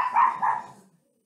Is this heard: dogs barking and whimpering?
yes